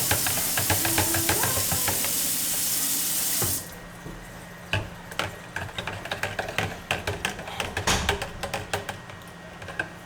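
Tap water gushes into a container with a loud steady rush for a few seconds, then stops, followed by quieter clinks and handling sounds nearby.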